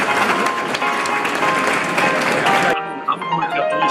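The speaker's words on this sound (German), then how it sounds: "Applaus für ihn." An audience at a prize-giving during the Blickfang design fair in Hamburg claps loudly for an honoured guest, a dense, steady wash of applause that stops abruptly near the end, leaving a faint ringing room.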